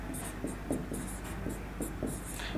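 Pen strokes scratch rhythmically across a writing surface, close and faint, a series of short scribbles over a steady low background hum.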